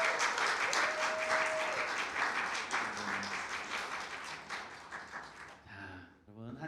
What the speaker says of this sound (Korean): 우리 한번 박수합시다.